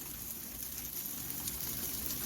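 Pork belly sizzles in a hot frying pan, giving a dense, even crackle and hiss that holds steady at moderate level throughout.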